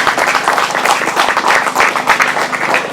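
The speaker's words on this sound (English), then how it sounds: "So big round of applause for Philip, Daniel and May and all the effort they put in." A crowd at a British Masters grasstrack race meeting applauds the race organisers, with dense, steady clapping held close for a few seconds.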